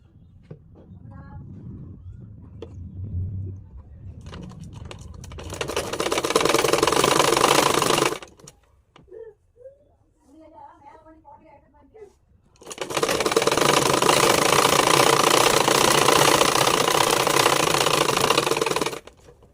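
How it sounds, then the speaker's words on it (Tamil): A sewing machine stitches a fold on a chudidar neckline, running in two loud, steady bursts of rapid mechanical whirring separated by a pause, with someone speaking quietly before and between the runs. "இந்த மாதிரி மடக்கி அது மேலே ஒரு தையல் தைக்க போகிறோம்"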